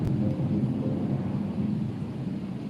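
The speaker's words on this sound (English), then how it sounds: "fighter planes" Fighter planes flying overhead give a steady, loud, low roar that fills the whole stretch with no break and no talking over it.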